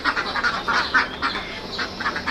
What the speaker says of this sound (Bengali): এই কারণে ধরে রাখছো হাঁসগুলি।